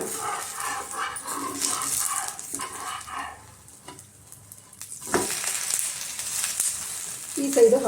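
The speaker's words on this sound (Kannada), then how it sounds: "ನಾನು ರೋಸ್ಟ್ ಮಾಡ್ಕೊಳ್ತೀನಿ ಸ್ವಲ್ಪ ಎಣ್ಣೆ ಹಾಕ್ಕೊಬೇಕು" Rava roti with greens and vegetables roasting in a little oil on a pan, producing a close frying sizzle that drops away briefly in the middle before rising again, with a few sharper bursts on top.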